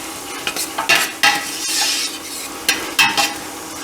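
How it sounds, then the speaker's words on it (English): Garlic sautéing in olive oil for a Sunday spaghetti sauce, steady close sizzle broken by several scraping stirs of a utensil against the pan, no talk. "And we'll just saute that a little bit"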